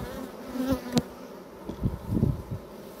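Honeybees buzzing around an open hive during a spring colony inspection, a low steady hum with a few sharper bumps and rustles of handling close by.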